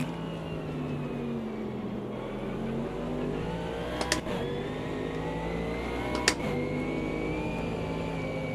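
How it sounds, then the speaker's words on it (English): GT3 race car engines in the video game Automobilista 2 drone continuously with shifting pitch, like several cars revving around a track, with a couple of brief clicks along the way. "my speakers were filled with the sounds of other cars"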